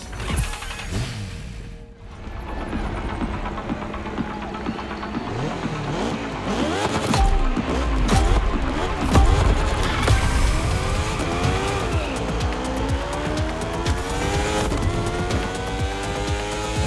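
Racing cars in the video game The Crew Motorfest: loud, continuous engine roar with revving, rising and falling pitch sweeps as gears shift, and tire squeal throughout.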